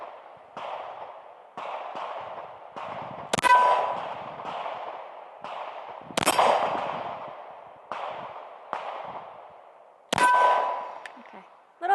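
A Ruger RXM pistol firing at a steel target: three sharp shots, each followed by a loud ringing clang of the plate, spaced a few seconds apart, with softer clinks and taps in between.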